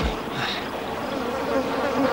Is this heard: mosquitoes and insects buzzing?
yes